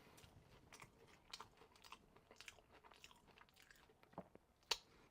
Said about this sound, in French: Comme vous pouvez l'entendre, la croûte est vraiment très croustillante.